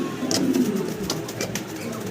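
Black Danish pigeons coo softly in a low, murmuring rhythm, close by, with faint rustling and a few brief higher sounds mixed in.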